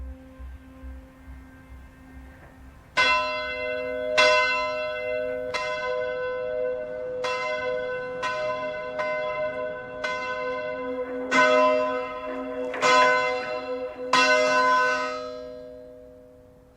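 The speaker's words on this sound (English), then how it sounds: "Tower Captain Paul Norman still rings the bell today, just as his predecessors did 350 years ago." A church tower bell in London, rung by hand, strikes about ten times in a slow, uneven rhythm. Each clear, ringing stroke overlaps the last one's long, fading hum, with no voices.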